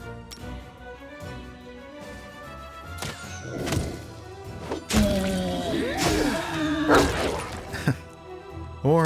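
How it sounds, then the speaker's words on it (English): Grenades exploding in the fantasy role-playing game Pathfinder: Kingmaker, a cluster of heavy thuds and shattering bursts during a fight with troll hounds, over game sounds and a few quieter knocks. "Let's get some grenades in there."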